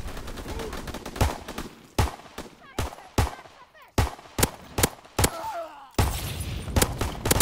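Pistol fire in a Call of Duty multiplayer replay: sharp, loud shots crack in irregular bursts and singles throughout, with other faint game noises between them.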